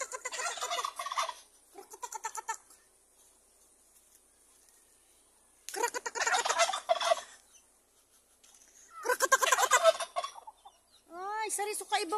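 A turkey on a small farm gobbles in several loud, rapid rattling bursts separated by pauses of near silence, close and clear.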